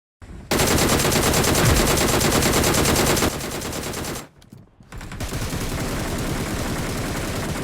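Gunfire in the video game BGMI: a loud, sustained machine-gun burst of fast, evenly spaced shots, a short pause, then another long stretch of rapid fire.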